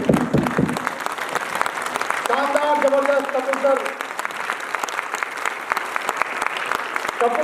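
Strong, sustained applause fills the hall at a mega meet, dense clapping from a large crowd while someone speaks over it.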